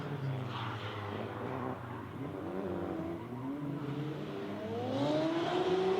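Nissan S13 Silvia and S14 drift cars in a tandem drift competition, with engines droning and revving as the cars pass at a distance, pitch rising and swelling louder toward the end.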